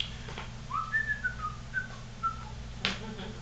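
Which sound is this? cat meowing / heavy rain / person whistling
person whistling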